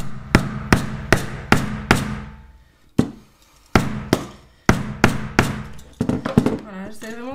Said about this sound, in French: Je prends mon marteau et je tape.